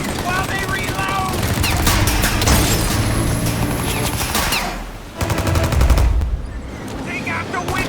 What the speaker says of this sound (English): Shoot the guy! Now, Tommy! While they reload!